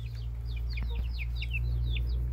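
Chickens in a coop on a rural smallholding, a run of quick high chirps and peeps from young birds close by, over a steady low background hum.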